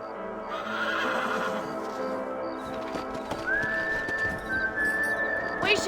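A horse in the Red Dead Redemption video game whinnies loudly and up close, followed by hooves clip-clopping and a long, rising whistle-like tone, with no talking.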